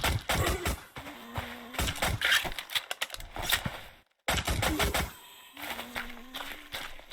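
Sharp video-game gunshots crack in quick bursts while shooting zombies in Blocks and Bones. The clicky reports come in irregular clusters, broken by one short silent gap.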